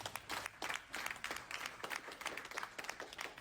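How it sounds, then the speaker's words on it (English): A small group claps in distinct bursts, a sparse rhythmic patter at moderate distance with gaps between the claps. "Let's give him a round of applause."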